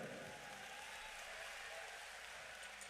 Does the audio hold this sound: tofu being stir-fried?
no